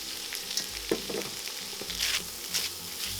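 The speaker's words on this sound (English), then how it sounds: "So now we're going to add our garlic and our onion" Garlic and shallot sauté in a pan, a steady soft sizzle with scattered pops and the scrape of a spoon stirring every so often, heard up close and fairly quiet.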